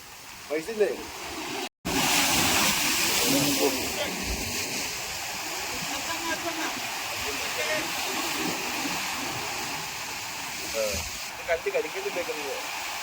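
A steady roar of sea surf washing and breaking on rocks nearby, loud and continuous, with a voice speaking briefly near the start.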